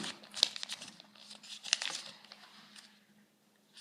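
Sheets of paper crinkle and crumple in close, irregular bursts, with two sharper crackles standing out before the handling fades toward quiet, accompanied by a steady low hum beneath.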